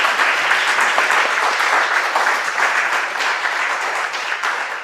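Sustained audience applause at a theatre festival awards ceremony, a dense wash of many hands clapping evenly and loudly for the whole stretch, without speech.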